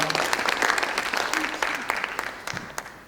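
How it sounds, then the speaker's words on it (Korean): Applause from lawmakers filling a party assembly hall, steady clapping throughout with a few louder individual claps standing out, fairly close, with a voice briefly heard beneath. "힘찬 응원의 박수 부탁드립니다"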